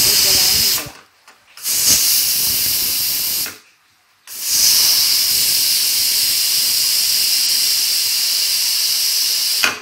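A kitchen pressure cooker blasts out a loud, sustained hiss of escaping steam, cut by two brief silent gaps before the roaring release resumes at full strength.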